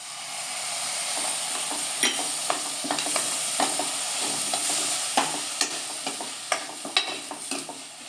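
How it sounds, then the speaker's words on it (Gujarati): Boiled potatoes and peas with masala being stirred and mixed in a hot pan for a sandwich filling, with steady frying sizzle and repeated scraping, clacking strokes of a spoon against the pan, close and clear, no talking. "હવે આપણે આમાં બટેટાનો મસાલો આપણે બાફીને રાખેલા હતા, વટાણા અને બટેકા એ મિક્સ કરી દઈએ"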